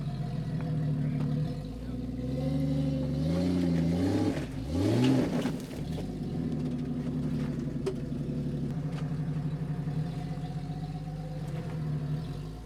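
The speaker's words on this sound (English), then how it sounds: "All right, Justin, let that supercharger sing." A supercharged off-road car engine revs up and down close by, its pitch swelling and dipping around the middle before settling back into a steady, throaty drone.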